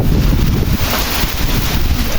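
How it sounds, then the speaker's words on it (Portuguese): A heavy afternoon rainstorm with strong wind in the Pernambuco backcountry roars as a loud, dense, continuous wash, with gusts buffeting the microphone. "A chuva aumentou, né? O temporal de chuva agora à tarde aqui."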